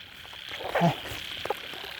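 Frogs call on a rainy night in the Isan countryside, one or two brief croaking bursts standing out over a faint hiss of rain and insects, with a man murmuring softly nearby.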